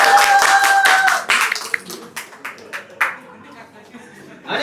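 Brief burst of clapping from people at an anime meetup in Trivandrum, a quick flurry of hand claps fading into scattered taps and light chatter within a couple of seconds.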